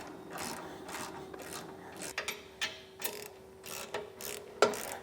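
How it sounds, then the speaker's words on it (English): Ratchet with a 3/4 inch socket snugging the bolts of a B&W Patriot 5th wheel hitch on a 2023 Ram 2500, giving faint rhythmic clicking strokes in short bursts, close by, with no voices. "just going to snug them down with the ratchet"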